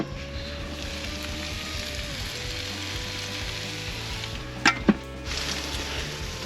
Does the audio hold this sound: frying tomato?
yes